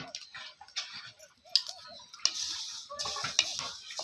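Flax seeds roast on a hot griddle over a low flame, giving faint, scattered ticking crackles and light stirring scrapes at close range.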